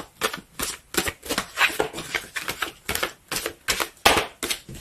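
Tarot cards being shuffled, a rapid run of crisp papery riffles and slaps in regular bursts, close and fairly loud with no talking.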